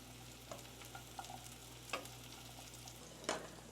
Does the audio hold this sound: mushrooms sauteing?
yes